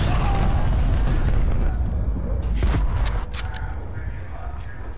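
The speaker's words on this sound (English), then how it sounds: "Throw a grenade." A grenade goes off in Call of Duty: Black Ops Cold War multiplayer as a heavy, sustained boom. It rumbles on under dense battlefield noise with a few sharper cracks near the end.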